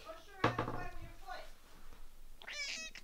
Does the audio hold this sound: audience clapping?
no